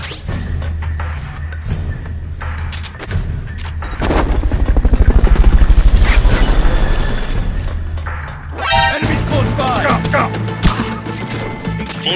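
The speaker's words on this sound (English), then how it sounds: "Fulton recovery helicopter is complete." Military action in the Metal Gear Solid video game, with loud helicopter rotor thumping and rushing wind building to a peak, mixed with gunfire-like bursts and impacts. Voices are heard in the middle of it.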